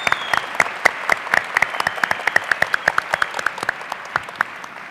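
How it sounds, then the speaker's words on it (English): An audience at the Arctic Inspiration Prize awards ceremony claps for youth prize laureates: a sparse, close round of individual hand claps with distinct sharp hits, thinning out toward the end. "please give a huge round of applause for the laureates of the inaugural Arctic Inspiration Prize for Youth"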